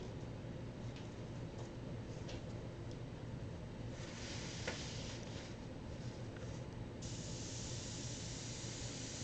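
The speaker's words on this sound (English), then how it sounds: "So you could do this with spray paint." Aerosol spray hisses steadily over a stencil, a continuous broad airy rush with slight bursts, close and fairly quiet, with no talking.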